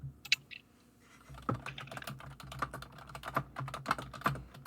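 Fingers type on a computer keyboard in a quiet room, irregular bursts of close, crisp key clicks after a brief pause at the start.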